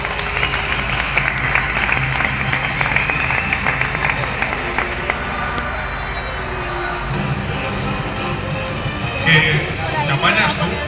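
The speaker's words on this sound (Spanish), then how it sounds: "le vamos a dar ese fuerte aplauso" A motor show crowd in Valencia applauds a motorcycle rider with dense, sustained clapping and cheering, mixed with a low rumble and general crowd noise throughout.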